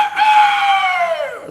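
A rooster crows once, a loud, close, drawn-out call that slides downward in pitch at the end, with no other sounds around it.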